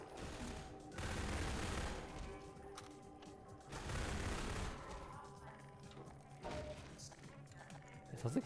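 Submachine gun fire in Half-Life 2 on Xbox, rapid rattling bursts in two main loud volleys with quieter shooting and clatter between, fairly faint overall.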